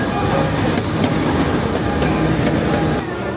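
A sightseeing train at a miniature-theme amusement park runs past close by, giving a loud, steady rumble of wheels on track with faint clicking joints throughout and no voices over it.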